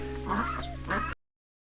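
Nearby ducks quack in a short, nasal burst of calls over a steady low hum, cutting off abruptly.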